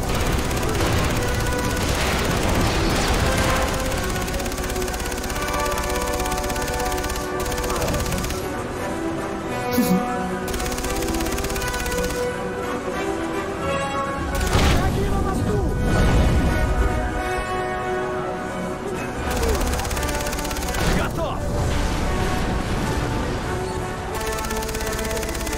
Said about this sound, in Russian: Ангары взрываются просто так.